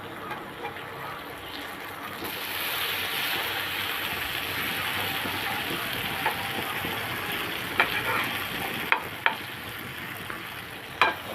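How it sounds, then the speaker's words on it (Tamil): Pieces of yam fry in a pan of oil with a steady, moderate crackling sizzle throughout, broken near the end by a few sharp clicks and taps of a utensil turning them. "மீதி உள்ள கருணக்கிழங்கையும் ஒன்று ஒன்றா நம்ம வறுத்து எடுத்துக்கலாம்"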